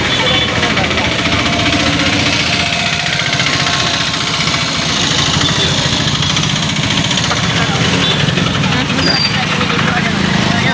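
A car engine idling on the way to a village festival in Odisha, a steady mid-low rumble with faint knocking vibration running throughout, with voices talking over it.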